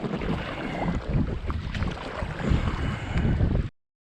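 Gusting wind buffets the microphone over open water in Vätsäri, with rushing low rumble and splashy texture, loud and continuous before cutting off abruptly.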